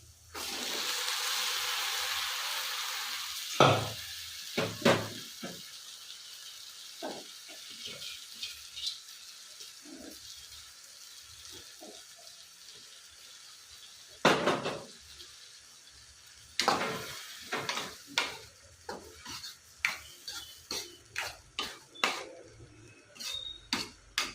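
Cooked fenugreek greens and sprouted legumes tipped into a pan and stirred, with a wet splash and sizzle at first, then scattered scrapes and taps of a spoon against the pan, mostly quiet and close.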